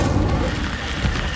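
The Incendio fire spell is cast in Hogwarts Legacy, a dense, loud burst of booming, roaring fire noise that holds steady for about a second and a half with no talk over it.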